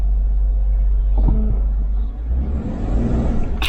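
A manual six-speed stick-shift car's engine rumbles steadily as gas is applied while the clutch is let up, a low continuous drone with a brief rise near the end and no talk.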